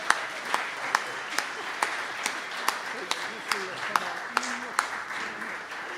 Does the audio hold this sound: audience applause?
yes